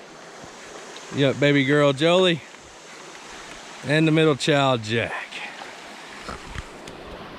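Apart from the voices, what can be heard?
flowing creek water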